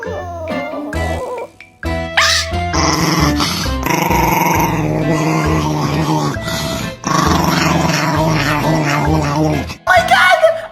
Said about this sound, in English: I saw a cute chihuahua!